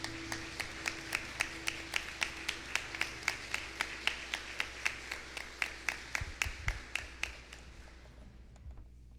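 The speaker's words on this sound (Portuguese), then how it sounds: "vamos dar uma salva de palmas para estes irmãos" Slow, steady rhythmic clapping from a church congregation during Sunday Mass, evenly spaced claps continuing for several seconds before tapering off near the end.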